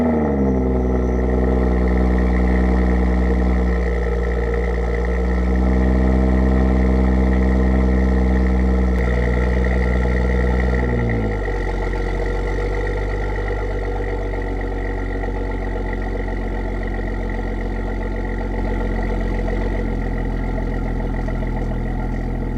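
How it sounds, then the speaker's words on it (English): A BMW X6 with a 3-liter inline-six engine runs steadily at idle, its low harmonic rumble shifting slightly as revs rise briefly and settle, heard up close and alone without talk. "I'll give you a sound check real quick. It sounds really nice. It has that inline 6"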